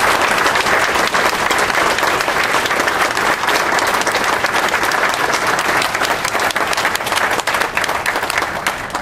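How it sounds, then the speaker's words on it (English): Loud, sustained applause fills a fire department banquet hall, a dense crowd clapping evenly and close for several seconds without letup. "So I'd like to give a round of applause to Duke."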